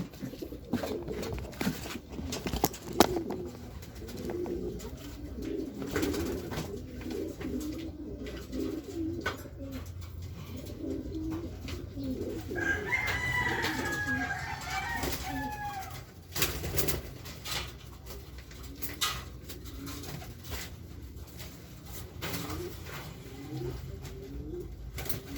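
A racing pigeon perched on a rooftop coos softly in repeated throaty phrases, with brief chirps partway through against quiet outdoor background noise.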